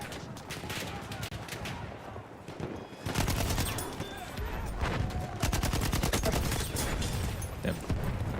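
Rapid bursts of gunfire from a support weapon in the video game Battlefield 1, dense and continuous from near and far, with firing growing louder and more constant partway through.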